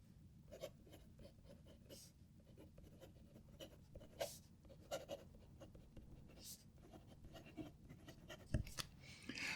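Fountain pen with a fine nib scratching across paper, a quiet steady rasp with short louder strokes scattered through, close and faint, with no one talking.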